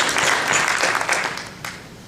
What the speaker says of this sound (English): How about another round of self-congratulation applause?